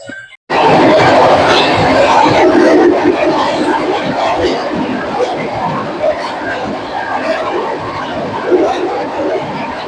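Continuous rumble and clatter inside a moving passenger train, heard under a busy mix of voices and chanted prayer recitation that fills the carriage from start to finish.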